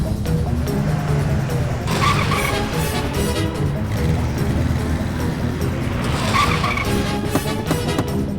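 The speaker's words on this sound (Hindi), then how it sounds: "गाड़ी निकाल," Car engine roaring and tires skidding as a vehicle speeds off in an action film scene, loud and continuous with squealing bursts around the middle and near the end.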